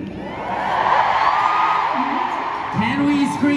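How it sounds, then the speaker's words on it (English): A large crowd in Araneta Coliseum screams and cheers in a sustained, loud roar, with a voice over a sound system briefly audible near the end. "can we scream for Freen?"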